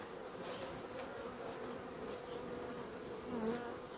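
A steady, dense hum of many honeybees buzzing together inside a hive, constant and close, with no voices.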